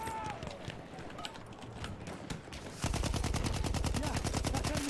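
Gunfire from enemy cavalry in the Battlefield 1 video game, with scattered distant shots and then a rapid, loud stream of repeated reports that starts partway through and keeps going to the end.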